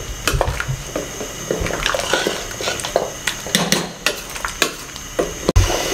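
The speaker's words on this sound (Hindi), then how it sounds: "इसको मिक्स कर लें और 3 से 4 मिनट इसको पका लूँ मैं।" Beef nali nihari masala stirred and cooking in a pot, with steady sizzling and wet scraping strokes of a spoon against the metal, close and fairly loud throughout.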